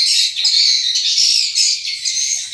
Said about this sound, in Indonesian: ini burung walet lah